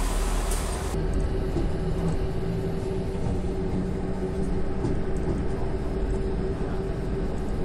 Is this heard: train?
yes